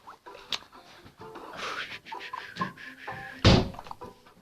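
A door pulled shut indoors, with scattered light knocks and rustles building to one solid thud near the end, close to the microphone.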